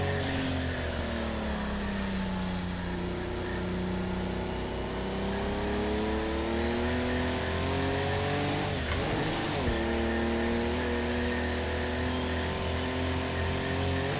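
A race car engine drones steadily and loudly in a sim racing game, its pitch sliding through gear changes and dipping then climbing again, with no one talking.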